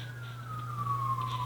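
A siren wails steadily outdoors, its tone sliding slowly downward over a constant low hum, moderately loud and unbroken throughout with no talking.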